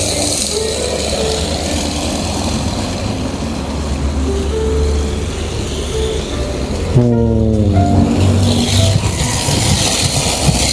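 A car accelerating through a drift during a driving lesson, its engine note climbing in stepped rises amid constant loud road and tire noise, with a sharp surge of revs near the end.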